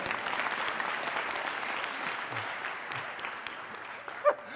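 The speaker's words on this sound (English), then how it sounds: "Give me a round of applause just because." Audience applause fills the space with dense, steady clapping that slowly thins out, heard from a moderate distance with a short thump near the end.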